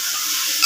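Ginger and garlic sizzle and hiss steadily in a hot pan over medium flame as they are stirred, a brief, loud, continuous frying sound without voices.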